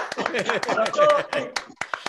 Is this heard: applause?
yes